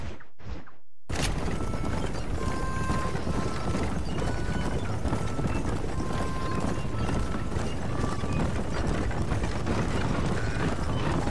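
Horse hooves drum rapidly in a galloping rhythm in the western video game Red Dead Redemption, a continuous busy clatter with a faint mechanical rattle layered under it, loud and sustained after a brief silent opening.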